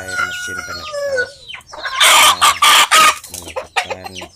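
Village chickens kept at home, clucking close by, then a loud rooster crowing that stretches across the middle, followed by more clucking and short cackles.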